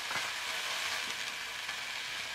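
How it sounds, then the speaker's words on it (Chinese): Scallion, ginger and garlic sizzle steadily in hot oil in a wok, a close, even crackling hiss that runs unbroken with faint clinks of stirring. "油热以后加入葱姜蒜进去炒香，再加点麻椒进去"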